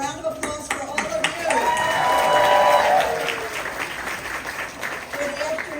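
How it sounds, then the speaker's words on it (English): A crowd at a Harris-Walz reproductive freedom campaign rally breaks into applause, the clapping swelling for a couple of seconds and then fading while a voice carries on over it. "A round of applause for all of"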